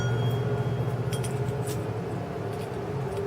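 A small stainless steel bird toy bell with a teardrop-shaped stainless steel clapper rings with light, bright metallic tinkles. The strikes are irregular and fairly faint, set against a background hum.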